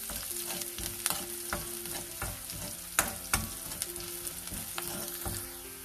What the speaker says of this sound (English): Now to this we'll add garlic chopped. Fry till garlic gets fried.